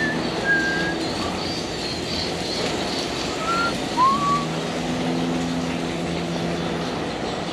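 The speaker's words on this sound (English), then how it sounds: "So I'm whistling there." A person gives a few short, faint whistles to get the attention of cows in a barn stall, heard over a steady low hum of background machinery.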